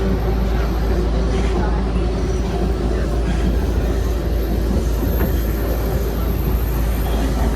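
A train rumbles loudly and steadily through downtown Vancouver, its continuous roar and wheel noise filling the scene while people talk over it.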